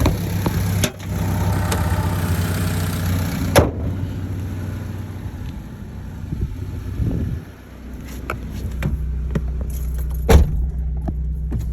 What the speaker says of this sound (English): We're going to take it for a spin and see what you can do with that little motor.